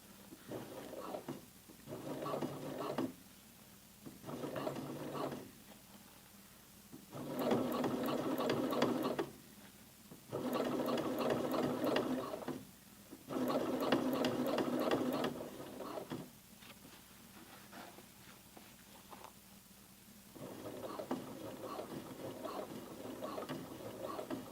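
Sewing machine top stitching with a blind hem foot, running in several bursts of steady rapid stitching separated by short pauses, close and moderately loud.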